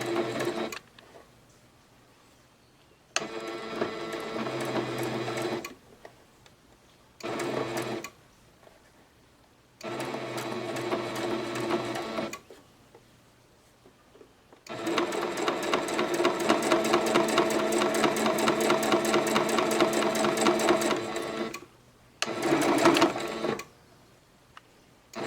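A sewing machine stitches folded fabric with backstitching in bursts, its rapid, steady mechanical whirring starting and stopping several times before one long continuous run near the end, close and loud with no voices.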